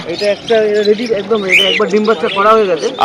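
Lutino lovebirds chirping at a busy pet bird market, with bright repeated tweets over nearby voices talking throughout.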